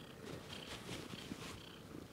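A cat purrs close by with a soft, steady rumble that pulses with each breath, faint but continuous and with no talking over it.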